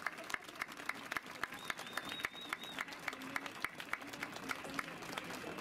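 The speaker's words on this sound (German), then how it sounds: "Und jetzt nochmal ein Applaus für alle, die mir Geld gespendet haben" An outdoor rally crowd in Dresden applauds donors, a fairly distant, thin patter of clapping with a few louder claps and a faint whistle, steady for several seconds.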